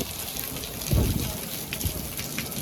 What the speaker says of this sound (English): We're starting to get some big old fat raindrops now